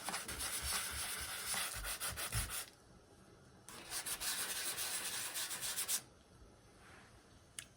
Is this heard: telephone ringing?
no